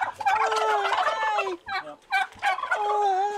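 A turkey gobbles loudly nearby in two rapid, warbling bursts separated by a short pause.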